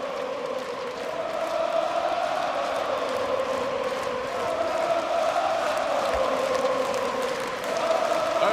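A packed arena crowd at the ESL One Cologne 2018 CS:GO semifinal between FaZe and BIG on Inferno roars in a steady, sustained wall of cheering and chanting that swells slightly toward the end.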